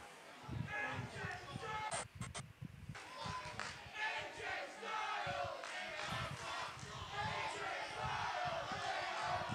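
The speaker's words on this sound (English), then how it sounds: "And now the crowd started to chant for AJ." Wrestling crowd at an AR Fox vs AJ Styles match chanting for AJ Styles, rhythmic massed voices rising and falling in a large arena, with a commentator's voice over the top.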